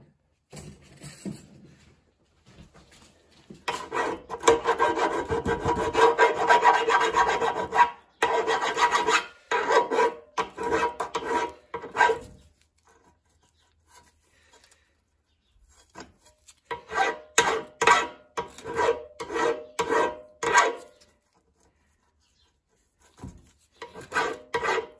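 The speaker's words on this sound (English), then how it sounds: "Let's get a file and just take the burr off that." A hand file rasps back and forth over a burr on the keyway of an old Suffolk Punch lawn mower, close-up strokes in two rhythmic bursts separated by a quiet pause.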